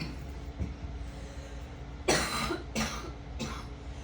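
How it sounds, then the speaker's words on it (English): Three sharp coughs break through a quiet indoor room, spaced close together, fairly near and loud against a low background hum. "I got to go cough"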